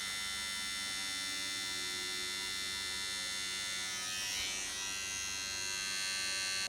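Nano tattoo machine running at 7 volts with the needle out about 3mm, a steady, close, high-pitched electric buzz that holds constant throughout with a slight shift in tone near the end.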